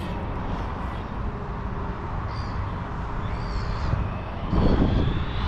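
Corally Jambo RC car on a battery, a steady loud whining motor drone close by with a brief surge near the end, no talking.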